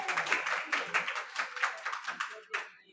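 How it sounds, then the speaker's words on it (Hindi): Audience clapping at a school ceremony honouring top students: scattered, uneven hand claps from a modest crowd, fairly close, trailing off after about three seconds. "तालियां तो बजा दीजिए आप।"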